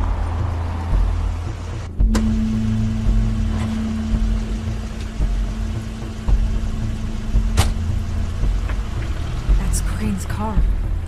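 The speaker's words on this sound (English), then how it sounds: "Car." A car engine hums and rumbles at a steady low pitch in The Wolf Among Us, under rain-like noise, with a voice speaking over it and a few sharp clicks.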